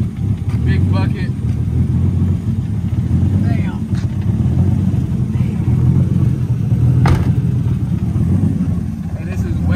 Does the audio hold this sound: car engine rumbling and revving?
yes